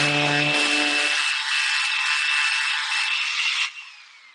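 A power sander whines steadily up close, grinding down a screw protrusion on wood for about three and a half seconds before cutting off, loud and alone without talk.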